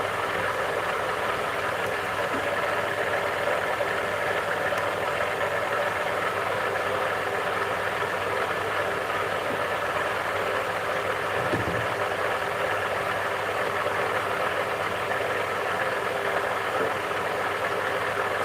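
A small electric motor running full out at 1200 RPM on 24.8 volts, a steady unbroken hum and whir that stays level throughout, close and alone.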